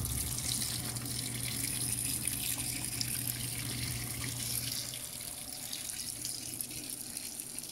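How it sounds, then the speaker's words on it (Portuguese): Panasonic Ag+ 16 kg washing machine filling with water, a steady close rushing stream of water pouring into the drum, constant and alone without talk, with a low mechanical hum beneath. "Caída de água dela aqui é muito bonitinha."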